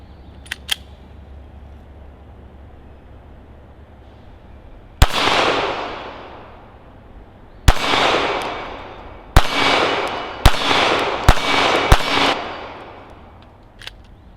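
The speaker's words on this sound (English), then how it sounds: "I'm gonna have Gary throw a couple mags through it" Glock 42 pistol shots at a shooting range, six loud sharp reports with ringing tails, spaced irregularly and then bunched closer together, preceded by quiet handling clicks, with no talk.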